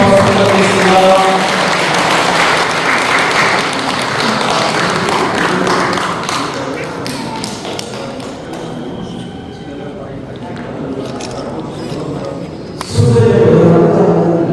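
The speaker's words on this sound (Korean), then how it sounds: "큰 박수 부탁드리겠습니다" A crowd at a book launch claps in loud, sustained applause that gradually thins, then swells again near the end, with voices mixed in.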